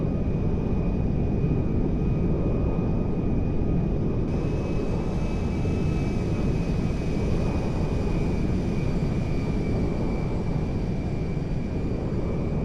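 A modded IL-76M four-engine jet transport cruises steadily with the throttle eased back in GTA 5, giving a continuous loud, even engine drone with a faint steady whine above it and no talking.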